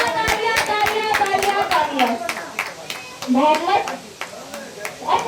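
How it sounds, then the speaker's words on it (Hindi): A crowd at a lucky-draw prize announcement claps in scattered bursts, with sharp hand claps punctuating someone speaking loudly over a microphone. "तालियां बजती रहनी चाहिए"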